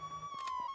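A brief electronic police car siren tone in the video game H1Z1, steady and fairly faint, with a short burst of game sound effects over it.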